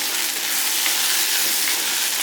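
Onion and okra sautéing in a pan produce a dense, constant, loud sizzle close up, with no voices over the short stretch.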